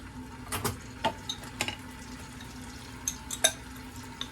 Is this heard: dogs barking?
no